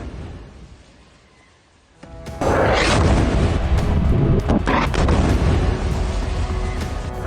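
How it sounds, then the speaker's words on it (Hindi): A Spice 2000 bunker buster bomb strikes and destroys a building in Khan Younis, Gaza: a low rumble gives way to a sudden heavy blast, followed by a loud, sustained roar of debris with no voices. "बम गिरते ही बिल्डिंग बर्बाद। ये है बंकर बस्टर स्पाइस 2000 बम की बारूदी ताकत।"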